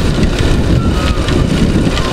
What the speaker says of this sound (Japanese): ずっと雨止まないですね。